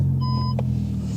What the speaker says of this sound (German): Parksensor.